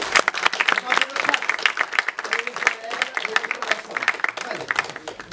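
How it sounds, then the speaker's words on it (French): Audience applause at a French community event, clapping steady and fairly close, with people talking over it throughout. "Venez, on les applaudit s'il vous plaît."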